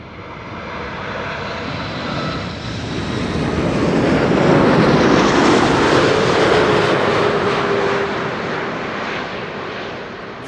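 Boeing 747-8 at Amsterdam Schiphol Airport, a broad jet engine roar swelling as it passes close by and then easing off, with no voices over it.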